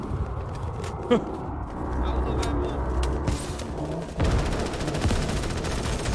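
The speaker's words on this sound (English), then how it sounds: "They keep shooting me." Video game gunfire crackles in scattered shots and rattling bursts over a continuous rumble of game sound, with voices talking over the action.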